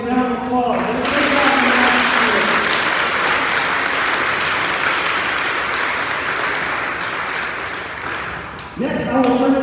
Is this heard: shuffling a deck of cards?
no